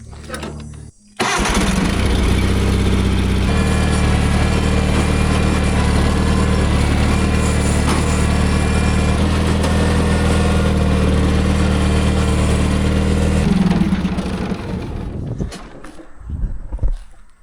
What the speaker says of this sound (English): 318, probably one of the best garden tractors ever made.